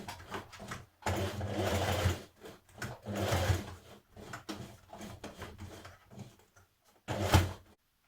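A sewing machine stitches the seam of a skirt in several steady bursts of whirring, separated by short pauses, close and fairly quiet, with no talk.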